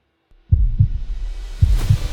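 Two pairs of deep, booming heartbeat thuds make up a cinematic sound effect for a sports team jersey promo, loud and alone over a low rumble, with a bright whoosh rising near the end.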